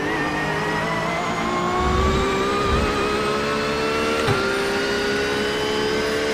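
McLaren GT3 race car at Sebring in iRacing, its engine droning steadily and loudly throughout with a slight rise in pitch as it accelerates and a brief bump partway through, heard alone without talk.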